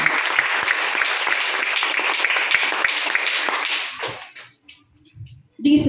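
A church congregation claps for the Lord Jesus, a loud, dense burst of applause lasting about four seconds before cutting off abruptly, followed by a few faint scattered sounds and a brief loud return at the very end.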